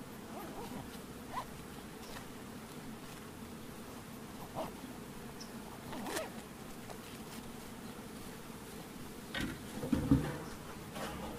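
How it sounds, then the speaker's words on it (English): Honeybees buzzing around an open hive during queen raising work, a faint steady hum with occasional closer buzzes passing by, and soft handling noises in the background. "with a couple of grumpy bees"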